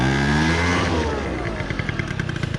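A Yamaha stunt motorcycle fires up and settles, starting with a loud revving roar that falls into a quicker, choppy, pulsing idle, close to the mic and with no talk.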